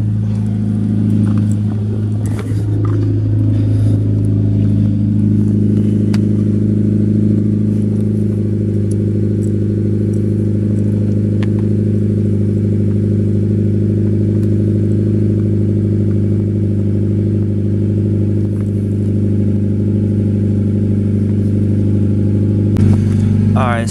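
2014 Scion FRS with a Borla exhaust idles loudly after a cold startup, a deep steady droning rumble close to the microphone that holds constant, with a brief clatter near the start and a faint voice at times.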